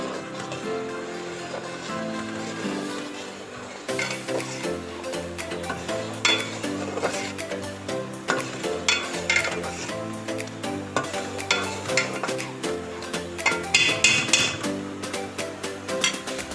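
Sheer khurma of milk and vermicelli stirred as it cooks in a pot, with repeated spoon scrapes and light clinks over a soft simmer, rhythmic and close, no talk.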